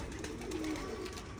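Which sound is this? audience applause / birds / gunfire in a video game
birds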